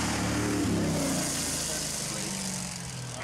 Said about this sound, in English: Big booming engine. Lots of power, but not a lot of grip.